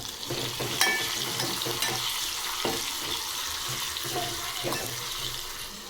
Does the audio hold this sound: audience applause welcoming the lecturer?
no